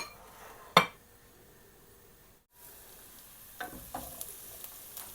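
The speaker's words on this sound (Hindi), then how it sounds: "लहसुन को हम थोड़ा फ्राई कर लेंगे, सौते कर लेंगे।" Garlic sizzles in oil in a pan with a couple of sharp clinks of a utensil, then the frying hiss continues with light stirring taps.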